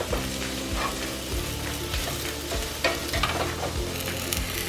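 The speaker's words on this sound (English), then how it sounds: "this is how you know that they are getting fried up" Fideo noodles frying in a pan over medium heat give off a loud, constant sizzle, broken by regular scraping knocks as they are stirred.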